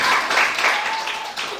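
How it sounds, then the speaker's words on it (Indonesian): Brief clapping rises from listeners in a lesson on Qur'anic parables, a short burst of dense applause that stays moderate in level with a faint tone beneath it. "tepuk tangan kalau gitu"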